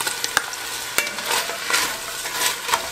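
Onions, carrots and celery sautéing in ghee in a pan for rabbit chili, a close, lively sizzle punctuated by several sharp scrapes and knocks of a utensil stirring.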